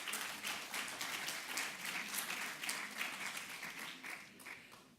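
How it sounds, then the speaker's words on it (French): Faint, distant applause from an audience at a French public hearing roundtable, a steady wash of many hands clapping that holds for several seconds and then begins to thin out toward the end. "je crois qu'on peut les applaudir pour le travail qu'ils ont fait"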